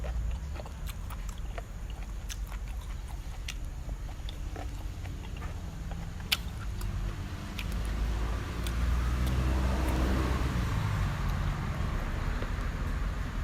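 Steady road noise with vehicles rumbling past, one swelling louder and closer toward the end, plus scattered clicks.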